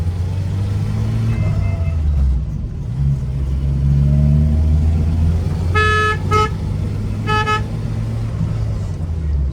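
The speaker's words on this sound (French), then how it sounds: "Je sais pas si t'as vu le combi derrière qui nous a klaxonné." A VW van behind a 1974 Renault 4L sounds its horn in two short honks, close and loud, over the engine drone and road noise of the moving car.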